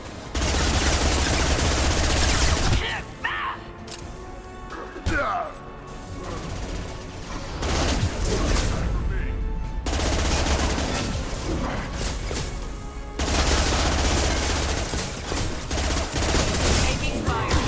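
Heavy sustained gunfire and crashing impacts from a Mass Effect 2 firefight, loud bursts of automatic fire with brief lulls, mixed with squad voices calling out.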